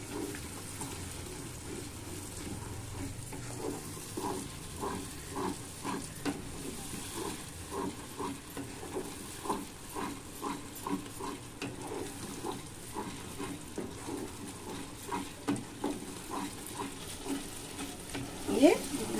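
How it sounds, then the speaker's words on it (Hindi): Tomato puree sautéing in a pan of masala for dhaba-style egg curry, a low steady sizzle with repeated soft scraping stirs throughout, close by and fairly quiet. "4 टमाटर प्यूरी बना ली, तो ये अभी प्यूरी मैं डाल रही हूँ। इसको भी लगातार सॉटे करना है।"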